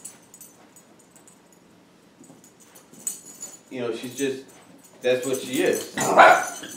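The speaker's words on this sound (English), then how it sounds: "That was my dog." A dog barks and yips in a few loud bursts near the end, following and partly overlapping a person talking.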